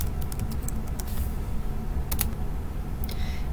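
Clicky keystrokes on a computer keyboard while entering a search: irregular taps in short bursts and scattered single presses, close by over a low background hum.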